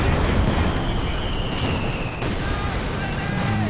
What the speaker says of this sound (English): the flame barrage from the mortar coming in